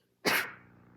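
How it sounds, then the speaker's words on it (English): A single sharp person's sneeze bursts out loud and close, then trails off into a soft low hum of the room. "I'm going to sneeze."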